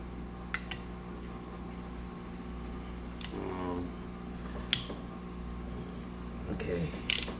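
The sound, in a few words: ratchet loosening bolts during a dirt bike engine teardown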